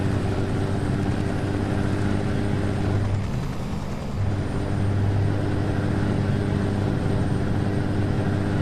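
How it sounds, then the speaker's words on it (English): A helicopter in the American Truck Simulator video game drones steadily throughout, a low rotor rumble sitting under a continuous truck engine hum with a brief dip near the middle, no voices. "Helicopter."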